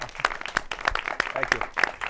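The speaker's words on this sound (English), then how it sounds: "let's give Sean a round of applause, everyone." Applause from an audience at a rum tasting event: a thin round of claps with distinct individual hand strikes at an uneven rhythm, fairly close, no voices over it.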